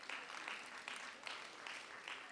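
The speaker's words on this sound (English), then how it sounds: "I think he deserves a very warm round of applause." Quiet applause from a small audience following a pitch at an Africa Earth Observation Challenge competition, with a steady, faint patter of hands.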